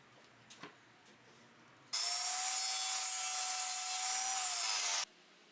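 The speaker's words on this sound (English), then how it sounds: "I cleaned up both ends of the brass pin with some sandpaper" Brass pin on a cocobolo mallet being sanded with sandpaper, a steady, loud rasping rub that starts abruptly, holds for about three seconds and stops, with faint bumps before it.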